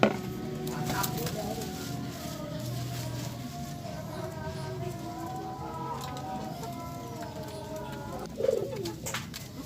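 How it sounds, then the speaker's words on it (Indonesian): Pigeons coo and flutter softly while eagerly eating feed from a woven winnowing tray, with a steady low murmur of birds and faint buzzing insects in the background. "merpati kita sangat lahap sekali"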